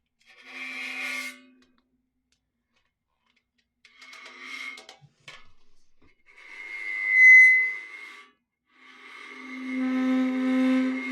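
A bow scrapes across a metal object in several separate strokes, producing harsh rasping tones with a ringing, squealing pitch, sounding close, with silences between.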